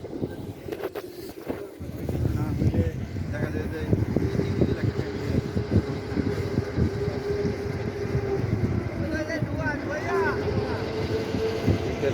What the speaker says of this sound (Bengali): সাথে ট্রলারও আছে,